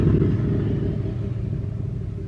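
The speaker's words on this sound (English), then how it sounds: "can men not drive loud cars?" A loud car rumbles past outside, a heavy low engine drone that is strongest at the start and slowly fades as it moves away, with no talking over it.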